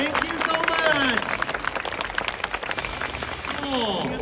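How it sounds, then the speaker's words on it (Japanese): Crowd applause at the F1 Tokyo Festival in Roppongi for Formula 1 CEO Stefano Domenicali, a scattered outdoor clapping under amplified announcer talk with a murmuring crowd. "もう一度大きな拍手を送りましょう"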